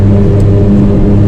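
A Suzuki Carry Japanese kei truck cruises on the highway, its engine and road noise forming a steady, loud drone with a low hum throughout.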